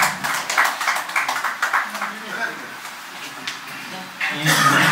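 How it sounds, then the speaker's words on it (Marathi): An audience claps at an Indian award ceremony honouring entrepreneurs: a run of quick, close claps under a voice, thinning out, then a denser burst of applause at the end. "जोरदार टाळ्या होतात"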